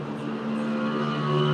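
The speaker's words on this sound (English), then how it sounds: "Hold on, this little motorcycle moped thing." A small motorcycle or moped passes by outdoors, its steady engine whine building slightly in loudness as it approaches, fairly distant and moderately quiet.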